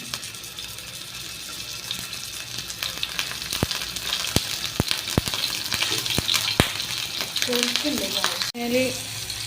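Fish frying in hot oil in a hostel kitchen, a continuous close sizzle with sharp spitting pops and crackles, some clattering of utensils and a faint voice toward the end.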